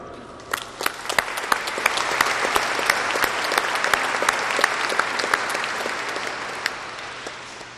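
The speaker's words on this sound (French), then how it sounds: "J'aimerais qu'on applaudisse le retour du grand orgue." A church congregation applauds the return of the great organ: scattered individual claps at first swell into full, steady applause, then thin out toward the end, heard at a moderate distance in a reverberant space.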